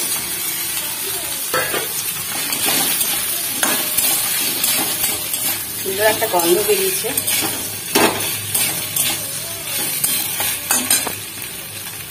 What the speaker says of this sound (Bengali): এর মধ্যে ভাজা আলুগুলো দিয়ে দেবো।